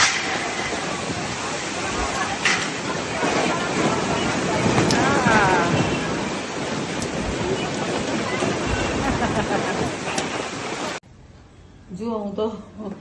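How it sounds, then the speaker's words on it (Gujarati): Heavy rain driven by wind roars loudly and steadily outside a home, with gusts buffeting the microphone, then drops abruptly near the end as someone speaks. "બરાબર બમ્બમાટ વરસાદ"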